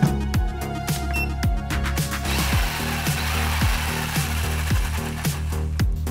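A 230-watt power jigsaw runs continuously, its blade buzzing rapidly as it cuts through a wood panel, loud and close, with rhythmic pulses as the cut progresses.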